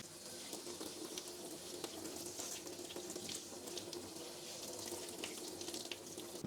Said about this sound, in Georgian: ბრინჯი უნდა გავრიცხოთ რამოდენიმეჯერ გამდინარე წყალში